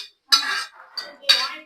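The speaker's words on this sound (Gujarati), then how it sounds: "ચણાની દાળ નાખી દીધી" Boiled chana dal goes into a pot of simmering chutney, a metal spoon scraping and clinking against the pot in two sharp, close strokes with a softer knock between.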